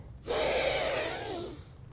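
A long, deep inhale through the nose during a children's yoga breathing exercise lasts about a second and a half, close and clear, then eases off.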